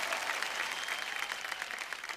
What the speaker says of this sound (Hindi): जोरदार तालियां टीम ग्रीन के लिए